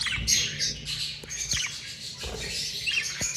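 A breeder pair of pet birds, a dominant pied male and a cobalt turquoise Hogoromo female, chirp and squawk in sharp repeated bursts, close by with no talking.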